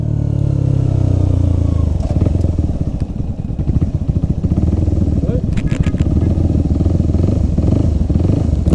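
A motorcycle engine with a sticking throttle revs loudly and continuously, its roar swelling and holding high with rattling clatter mixed in, close to the listener throughout.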